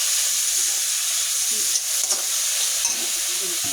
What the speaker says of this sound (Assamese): এতিয়া আকৌ মই অলপ সময় এনেকৈ ভালদৰে ভাজি লৈছোঁ।